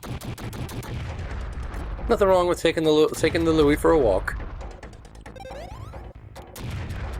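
Explosions go off in the video game Super Bomberman 5, a dense run of blasts and crashes heard over someone talking.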